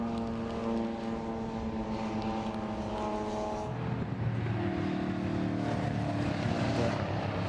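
Classic race cars, including two Jaguar XJSs and a BMW, racing through Stowe corner at Silverstone, their engines roaring loud and steady as one pitch drops and another rises while they pass.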